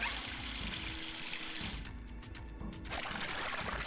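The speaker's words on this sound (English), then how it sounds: "If we turn the water on" Water running from a tap into a sink in the video game Zero Time Dilemma, a steady close rushing flow that thins briefly to a lighter trickle before surging again, with no talking.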